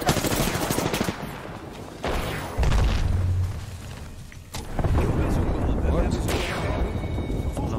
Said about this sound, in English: They're throwing tons of grenades out.